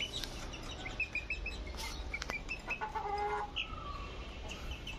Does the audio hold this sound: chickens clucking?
yes